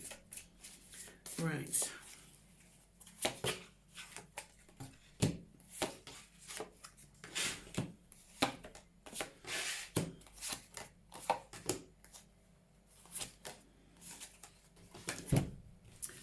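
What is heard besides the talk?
tarot cards being shuffled and laid out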